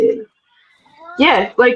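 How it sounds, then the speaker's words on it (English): A cat gives a short meow close by, heard between bits of nearby conversation. "Is that your cat?"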